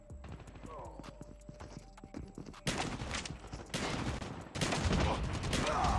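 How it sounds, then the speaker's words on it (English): Shotgun blasts in COD Mobile during a Hardpoint match, several sharp loud bursts in the second half, one after another, over in-game noise and footsteps, with a player talking. "I literally shot him in the face and he didn't kill him"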